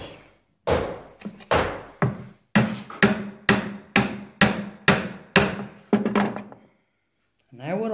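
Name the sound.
chisel cutting a wooden mortise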